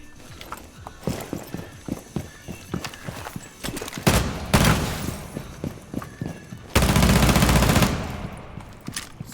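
Gunfire rings out in the video game Rainbow Six Siege, with scattered single shots and footstep-like taps giving way to two loud sustained bursts of automatic fire.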